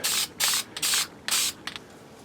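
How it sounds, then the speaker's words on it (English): Four short hissing bursts from an aerosol spray can spraying paint onto a 3D-printed part, close by, with a faint fifth puff at the end. "Make sure that you start your spray outside the part."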